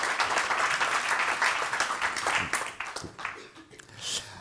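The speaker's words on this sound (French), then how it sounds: "On peut vous applaudir." An audience applauds at the Assises du Grand Paris 2024 conference, with dense sustained clapping from a crowd that thins and fades toward the end, under faint voices.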